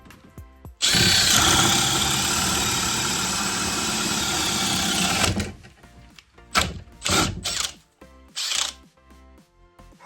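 A Makita LXT XPH14 cordless hammer drill bores holes in a basement with one loud, steady run of about four and a half seconds, then stops, followed by a few short stuttering bursts as the battery dies.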